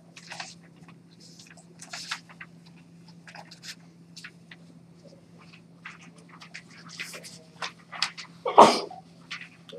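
A single sharp sneeze bursts out near the end, loud and close, during a workplace sales training meeting, with scattered quiet talk and small handling sounds before it over a steady low hum.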